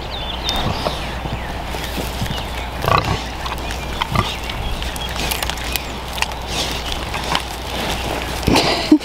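Pigs being herded across open farm ground, with soft grunts and shuffling movement over steady outdoor rumble, plus a few brief knocks and rustles nearby.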